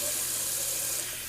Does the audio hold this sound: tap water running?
yes